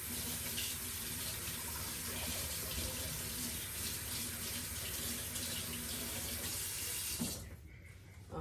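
Steady running tap water while something is rinsed in a kitchen sink, a continuous splashing stream that stops abruptly near the end.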